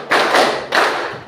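Two sharp, loud hand claps about half a second apart, from a class clapping together in a peer-teaching lesson, each with a short ringing tail and no voices.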